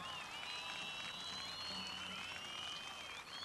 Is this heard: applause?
yes